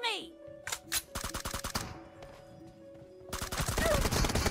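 Suppressed gunfire in the PUBG Mobile video game plays as rapid bursts of muffled automatic shots, with a pause between volleys, under game sound.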